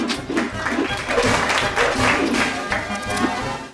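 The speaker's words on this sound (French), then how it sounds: "On l'applaudit bien fort." Audience applause for a presenter's assistant, a steady wash of many hands clapping that lasts the whole stretch, loud and fairly close, with no one speaking over it.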